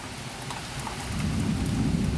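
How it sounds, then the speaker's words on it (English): Heavy rain pours steadily during a thunderstorm that ends a drought, a dense close hiss of drops on surfaces that grows louder, with low rumbling underneath and no voices. "And God bless the rain."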